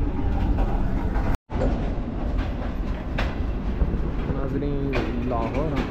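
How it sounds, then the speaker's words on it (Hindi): The Green Line Express passenger train runs through Pakistan, its steady loud rumble and rail clatter continuous and close with a brief dropout, a voice speaking faintly beneath it. "ट्रेन चल रही है सर"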